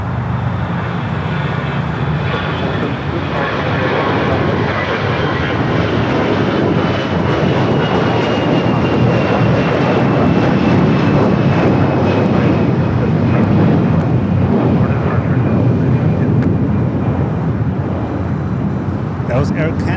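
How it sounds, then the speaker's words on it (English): A 23-year-old Air Canada Airbus A321 jet at Los Angeles LAX roars steadily and loudly for the whole span, a broad engine rumble with a rising whine, while a voice talks intermittently over it. "That was Air Canada 792 going to Toronto, 23-year-old Airbus A321."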